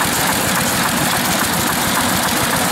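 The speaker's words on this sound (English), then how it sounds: "he's going to run an air compressor to run his little engines off of this" A small engine at an outdoor engine and tractor show in Bracebridge, Ontario, drives a little air compressor pump, giving a steady, close, continuous idling chug with a low rhythmic knock throughout.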